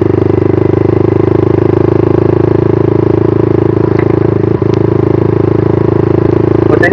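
A four-speed village motorcycle engine runs loud and close, holding a steady, unbroken low drone with a faint rattle and no clear rise or shift in pitch.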